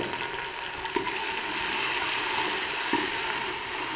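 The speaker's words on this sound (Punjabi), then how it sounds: "ਲਸਣ ਦੇ ਪੇਸਟ ਨੂੰ 2 ਤੋਂ 3 ਮਿੰਟ ਵਾਸਤੇ ਭੁੰਨ ਲੈਂਦੀ ਹਾਂ" Garlic paste frying in a pan on a home stove gives a steady, dense sizzle with no voices, and two soft knocks come through at the start and near the end.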